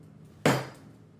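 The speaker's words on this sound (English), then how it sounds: "I'll smash it with a hammer!" A hammer strikes a watermelon wrapped in rubber bands once, giving a single sharp, loud thud that dies away quickly into quiet.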